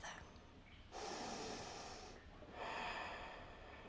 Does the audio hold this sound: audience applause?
no